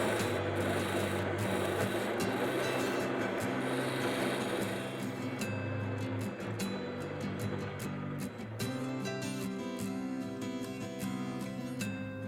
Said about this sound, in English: I use this skew chisel, which I can go along here and make it very flat